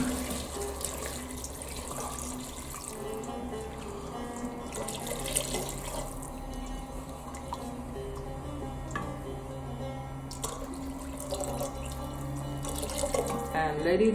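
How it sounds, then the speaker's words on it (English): Water runs from a tap or is poured into a pot of stuffed cabbage dolma during home cooking, a steady splashing stream heard close up throughout, with faint kitchen clatter and dripping. "Okay, now I add some water."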